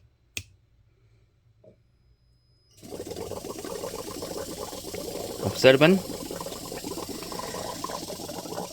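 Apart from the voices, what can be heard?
Samsung Family Hub refrigerator compressor switched on, valve mechanism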